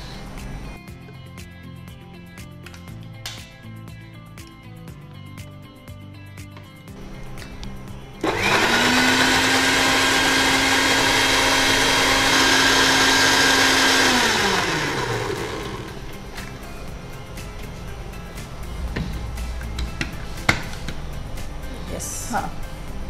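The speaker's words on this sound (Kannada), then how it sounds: "ಇನ್ನೊಂದ್ಸಲ ಮಿಕ್ಸಿ ಮಾಡಿ" A kitchen mixer blends a choco oats banana smoothie, a loud steady motorised whir starting abruptly and running about seven seconds before winding down, with quieter kitchen sounds around it.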